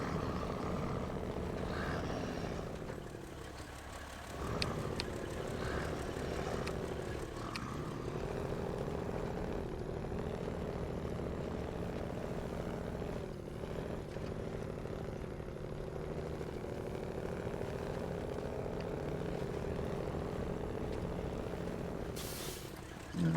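An old Detroit diesel truck engine drones steadily and loud for the whole stretch, a low rumbling idle with a constant hum, broken by a brief hiss of air near the end.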